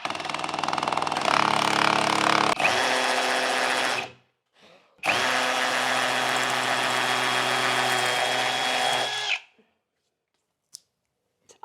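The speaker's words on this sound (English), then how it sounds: "And hammer drill." Hammer drill boring into a plaster wall, two loud close bursts of harsh rattling drilling separated by a brief pause, then silence.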